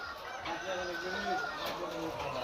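Chickens at a white-hen poultry farm where hens are laying, a faint distant chorus of clucking and crowing blended with ambient noise, with a voice murmuring in the background.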